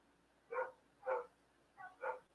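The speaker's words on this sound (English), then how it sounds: "My dogs are going crazy." Dogs bark four times at a distance, in short separate woofs with gaps between them, with no talking.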